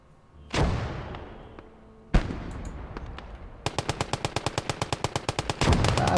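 Gunfire in the video game Motherland: two heavy single blasts with long decaying echoes, then a sustained, rhythmic machine gun burst of evenly spaced rapid shots, loud and close.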